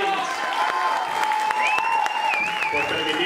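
Audience applause at a comedy roast, steady dense clapping filling the whole stretch at moderate loudness, with a few cheers and voices mixed in over it.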